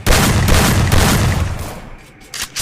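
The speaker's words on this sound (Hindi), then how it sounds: "शॉट गन के साथ 2 गोली देता हूँ" Shotgun blasts in the mobile battle royale game Garena Free Fire, a dense, loud burst of booming gunfire filling most of the moment before tailing off, with a couple of later shots.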